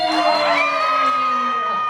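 A small group screams together on cue during a horror make-up show, a loud, sustained, layered chorus of high-pitched voices that holds steady and then trails off slightly.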